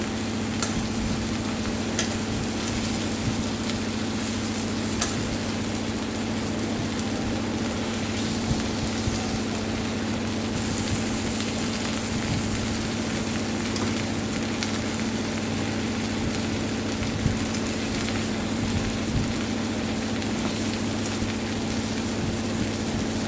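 Potpotani fries in a pan and is slowly turned over. A continuous sizzle and crackle runs the whole time, with faint scrapes of stirring and a low steady hum underneath.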